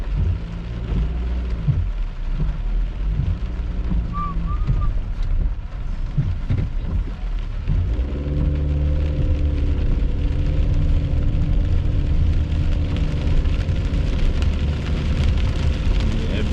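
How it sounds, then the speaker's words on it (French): Heavy rain during a November thunderstorm pours as a dense, continuous roar, with a low rumble like an engine or traffic beneath it, and no talk. "Bon, la pluie forte arrive."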